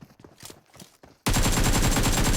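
Rapid automatic gunfire from a weapon in the video game PUBG Mobile, a loud sustained burst that starts abruptly after a few quieter thuds and footstep-like sounds, close and without talk.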